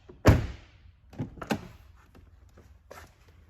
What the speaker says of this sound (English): we're gonna go ahead and close and open the door just to light up the dash